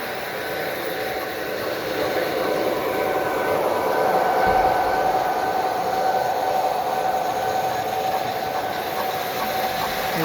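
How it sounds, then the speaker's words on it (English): A large-scale model train, O or G scale, runs steadily on two-rail track at a hobby train show in Laval, giving a continuous rolling rumble with a faint tonal whine and hall ambience, no talking. "Here's another running, I believe, O scale or G scale"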